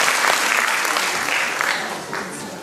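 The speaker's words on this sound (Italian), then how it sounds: "C'est Madame Margherita Caramazza, qu'on applaudit très fort s'il vous plaît." An audience at a book presentation applauds loudly, dense steady clapping that starts strong and gradually thins and softens.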